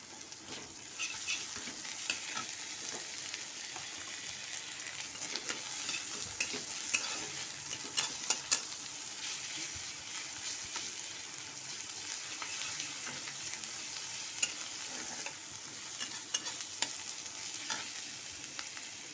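Onion, ginger and garlic fry in a pan for a curry, giving a steady, close hiss of sizzling oil broken by frequent scraping clicks of stirring, even and continuous throughout without talk.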